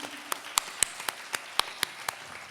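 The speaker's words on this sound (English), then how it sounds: "A big round of applause for all of them" Scattered claps from a small audience at a Bharatanatyam arangetram recital, honoring the backstage team: sparse, separate sharp hand claps at an uneven rhythm, fairly faint, with no dense applause.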